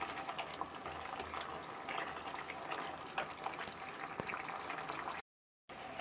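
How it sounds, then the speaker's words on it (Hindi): Yogurt gravy cooking on high flame until the oil separates, a dense bubbling, spitting simmer with tiny pops throughout, steady and close, cut by a brief silent gap near the end. "आपने दही को तब तक पकाना है जब तक ये तेल ना छोड़े"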